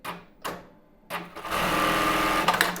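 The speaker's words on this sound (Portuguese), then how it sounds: "Eu vou passar mais uma costura aqui para ele poder pegar um pouquinho mais baixo" A sewing machine runs a seam along the edge of an embroidered tulle bra, starting with a few short taps and then settling into a steady, close, continuous whirring stitch.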